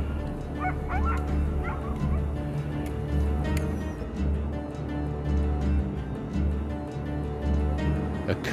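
Many Greenland sled dogs bark and yelp together in a town dog area, a dense, continuous chorus of overlapping barks and whimpers close by, with steady low rumble underneath and no talk.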